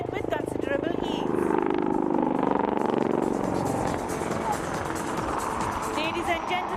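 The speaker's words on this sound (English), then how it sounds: "It is an extremely difficult maneuver for most helicopters, but LC-8 just did it with considerable ease." A military helicopter flying an air show maneuver at Aero India 2021 in Bengaluru, a loud, continuous rotor and engine roar that persists under an announcer talking over the public address.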